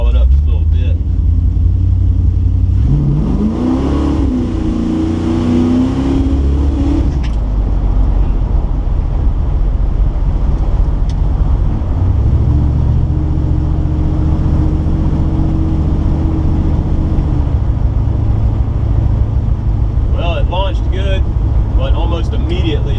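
A car fitted with a Thermoquad carburetor accelerates from a dead stop, its engine rumbling loudly up close, rising sharply in pitch for a few seconds, then dropping back to a lower, steady drone.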